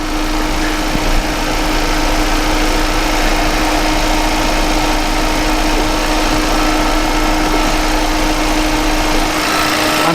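A Kia Ceed GT engine idles smoothly without misfiring, a steady close, loud drone with a constant hum and even vibration throughout, with no voices.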